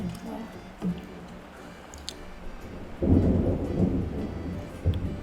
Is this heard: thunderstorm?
yes